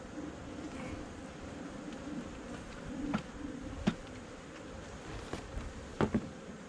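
Honey bees buzz at an open hive box, a faint, steady drone with a few soft knocks and clicks from handling the woodenware.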